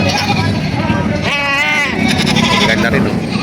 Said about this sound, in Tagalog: pagka gusto nyo ng kambing niya, hanapin nyo lang dito si Bossing.